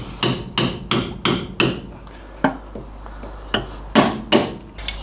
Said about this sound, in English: I'm just going to tap both of these locking tabs